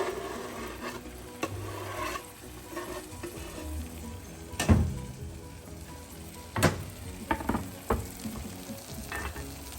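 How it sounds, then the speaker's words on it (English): Cilantro, serrano chile and minced garlic sizzling in melted butter in a pan, a steady close fry broken by scraping stirs and a few sharp clanks of the utensil. "now that the butter has melted, we'll be adding the cilantro and the serrano, as well as the minced garlic"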